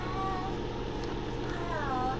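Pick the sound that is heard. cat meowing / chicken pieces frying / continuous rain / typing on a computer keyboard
cat meowing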